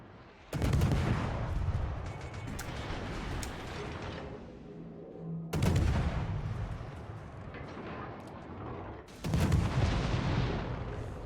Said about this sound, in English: Concentrate fire on the target.